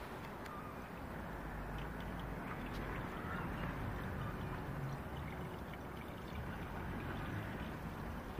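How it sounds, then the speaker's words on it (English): Water pours steadily from 500 ml bottles into the radiator of a Rover P6 3.5 V8, a continuous close-up gushing splash lasting throughout with no talking. "Watching a 45-year-old man pouring water into a radiator."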